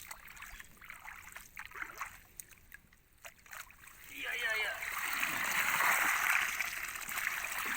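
Muddy water splashes and gushes as a farm field is cleared of silt through a mesh screen, a steady rushing wash swelling in the second half after quieter trickling and a voice talking nearby.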